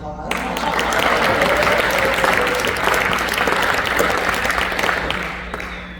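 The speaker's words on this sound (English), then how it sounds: "Guys, can you give them a round of applause?" Sustained audience applause at a youth sports team's annual awards banquet, a full room clapping steadily and loudly with faint crowd murmur, easing slightly toward the end.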